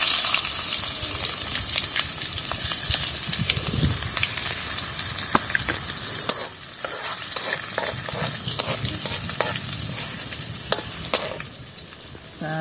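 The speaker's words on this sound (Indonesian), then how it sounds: "Kita goreng lagi cabenya sama bawangnya." Red chili and shallots fry in a pan with a steady, loud sizzle and hiss, broken by frequent scraping and stirring clicks up close.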